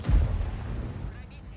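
A tank cannon firing in World of Tanks, a single heavy low boom at the start that rolls off into a fading rumble, with a voice talking over it.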